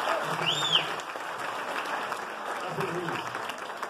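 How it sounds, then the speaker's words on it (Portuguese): Audience clapping for a volunteer at a lecture, steady mid-distance applause lasting the whole stretch, with a voice speaking over it. "Palmas para Luiz."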